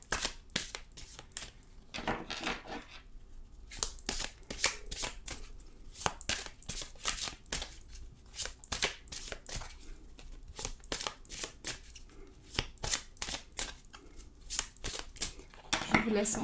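Oracle cards are shuffled by hand, giving a steady run of crisp, close papery clicks and riffles with brief quieter gaps between bursts.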